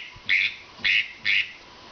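Three loud, close quacks from a duck call imitating a greenhead mallard drake, each short and raspy, evenly spaced, with no talking.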